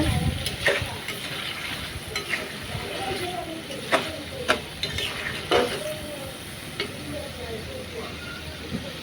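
Pigeon meat stir-fried in a pan, with a busy sizzle and repeated scraping of a spatula and metallic knocks against the pan, while someone talks quietly beneath.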